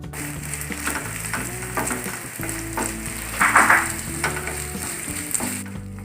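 Ada rice flakes roasting in a pan until brown for ada pradhaman payasam, a continuous close sizzle broken by stirring scrapes, with a brief louder burst of crackle midway and a steady tonal hum underneath.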